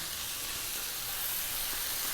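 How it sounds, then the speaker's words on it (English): Bean sprouts and green onions sizzle in a hot wok as they are stir-fried for a Chinese chicken dish, a constant bright hiss close by with no speech. "2 to 3 more minutes, stir frying around, keep it moving all the time."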